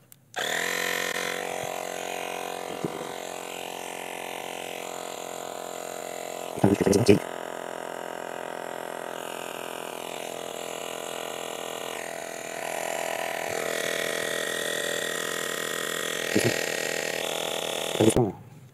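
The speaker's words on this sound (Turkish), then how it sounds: "Şu anda hazır ve pompayı çalıştırıyorum." A Lexin P4 rechargeable smart air pump runs with a steady, loud electric motor drone and high whine throughout, with a few brief clicks and louder bursts along the way.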